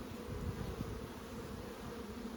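Buckfast honey bees hum around an opened hive during an inspection, a dense, steady swarm buzz close by and fairly quiet, with no talking.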